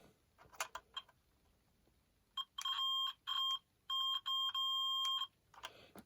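A multimeter's continuity tester beeps while probing the wiring of a vintage Cosmic Scramble tabletop arcade game during restoration, giving a string of steady electronic tones, several long and a few short, close and clear with no talk over them.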